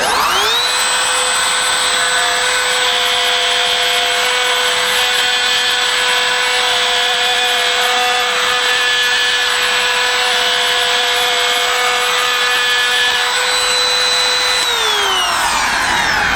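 Kobalt cordless trim router carving freehand into a wooden sign: the motor spins up, holds a loud, steady high whine while cutting for about fourteen seconds, then winds down at the end, with no talking.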